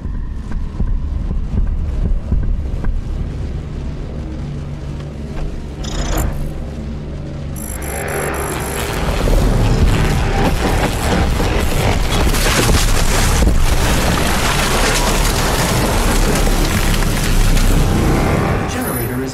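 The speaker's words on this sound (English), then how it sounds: "Warning. Main generator overload. I repeat, main generator overload." In the video game Doom Eternal, a main generator overloads with a loud rumbling, roaring mechanical build-up that swells into a dense, booming wash, while a game voice announces warnings over it.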